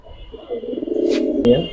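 Silver Beji pigeons coo in a low, continuous murmur, with a sharp click near the end and some background talk.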